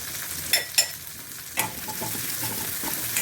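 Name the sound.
onions sautéing in a pan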